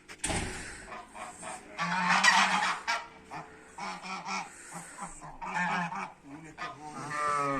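Geese honking repeatedly in a loud, overlapping chorus on a village farm at feeding time alongside chickens, close by, with occasional bursts of noisy flapping or squawking between calls.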